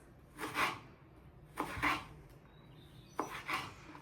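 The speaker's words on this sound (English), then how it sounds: "And then I'm gonna do julienne type of slices." Vegetables are cut into thin julienne slices with a knife, giving three short bursts of slicing and scraping on a board, spaced about a second apart, fairly quiet and close with no talk.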